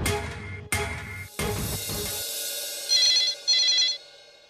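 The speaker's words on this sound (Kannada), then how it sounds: "ಇಷ್ಟೊತ್ತಿನಲ್ಲಿ ಯಾರು ಫೋನ್ ಮಾಡ್ತಿದ್ದಾರೆ?" A telephone rings late at night in a home, a few sharp ringing bursts broken by short gaps, clear and near with no voices.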